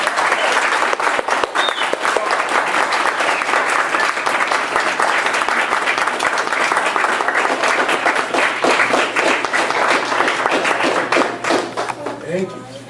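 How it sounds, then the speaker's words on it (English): A crowd at a Pasadena Fire Department award ceremony honouring Bob Ross breaks into loud, dense, sustained applause that carries on without a break, then thins out at the end. "So give me a big welcome and a round of applause for Mr."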